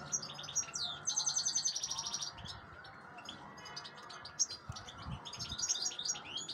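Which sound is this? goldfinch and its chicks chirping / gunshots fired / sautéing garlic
goldfinch and its chicks chirping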